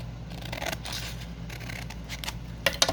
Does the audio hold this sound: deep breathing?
no